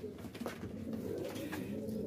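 Pigeons kept in a breeder's coop give soft, continuous cooing, close and steady for a couple of seconds, with no talk.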